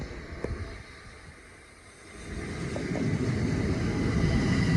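A Southeastern Class 375 electric passenger train rumbles past nearby at Teynham on the Chatham Main Line, its low roar building steadily from a quieter hum into a sustained, loud rush.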